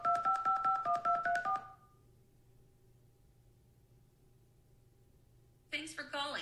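Telephone call to a business: a quick run of dialing tones, then a long quiet stretch with faint line hum before a ring or answer tone cuts in near the end.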